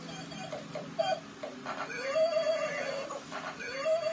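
A small electronic toy plays short tinny neighing tones several times, while a child whimpers and people chatter nearby.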